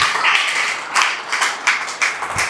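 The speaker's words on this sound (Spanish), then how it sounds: "Dale un aplauso al Señor si tú quieres ser del momento de la flauta." Church congregation clapping for several seconds in scattered, irregular claps with a few sharper bursts, moderately close and with no talk over it.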